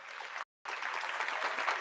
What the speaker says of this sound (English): Let's give Jay Fona a round of applause